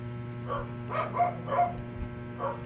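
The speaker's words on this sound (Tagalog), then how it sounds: "Ingay ng mga aso sa background ko." Several dogs barking in the background behind an indoor speaker, a handful of muffled, mid-distance barks spread irregularly over a steady low hum.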